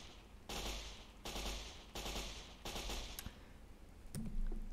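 Bursts of automatic gunfire from a modded gun in Minecraft's HBM's Nuclear Tech Mod, four loud sustained volleys separated by brief pauses, followed by a short click and a low mechanical hum.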